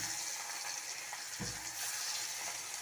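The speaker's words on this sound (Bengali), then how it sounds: "মাছ ভাজা করতেছি" Pieces of large katla fish fry in a pan, a faint but steady sizzle heard from a distance with one soft thump partway through, no voices.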